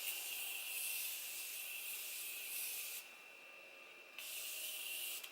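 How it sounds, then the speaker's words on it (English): Morphe Continuous Setting Mist aerosol sprays a fine mist in a long, steady hiss, pauses for about a second, then resumes with another close burst; no one speaks. "This is the Morphe Continuous Setting Mist."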